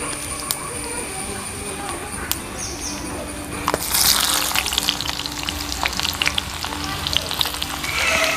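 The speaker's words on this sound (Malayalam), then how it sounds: "കടുകും ഉലുവയും പൊട്ടിയതിന് ശേഷം" Mustard and fenugreek seeds crackle and spatter in hot oil while tempering an Angamaly mango curry, a burst of dense sizzling and sharp popping that starts suddenly and keeps going loudly, after a few earlier clicks and some talking.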